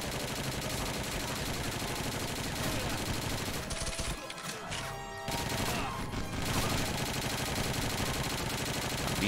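Rapid, dense gunfire in the shooter game WolfenDoom: Blade of Agony roars almost continuously, with a brief lull in the middle before the shooting resumes at full loudness.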